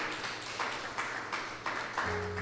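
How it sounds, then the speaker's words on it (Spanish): A church congregation claps together, a steady dense patter of hands with rhythmic swells, moderately loud and filling the room, no voices over it. "¿Cuánto le podemos dar un aplauso al Señor?"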